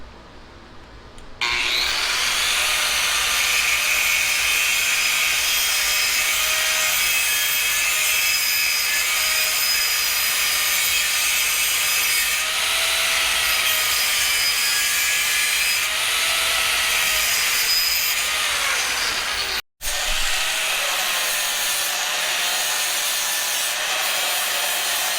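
A flap wheel on a power tool grinds notches into steel buggy frame tubing, a continuous loud abrasive whine lasting most of the stretch, with a brief cut-off near the end before it resumes.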